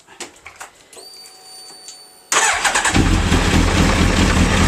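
A Suzuki Hayabusa motorcycle engine cranks and fires up loudly after an oil and filter change, with a few clicks and a whirring starter, then settling into a steady, rumbling idle up close.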